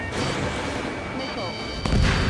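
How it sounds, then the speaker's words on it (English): Missile explosion in the jet combat game Ace Combat 7, a rolling boom with a heavy low-end swell near the end, over continuous engine roar and voices talking. "Missile hit."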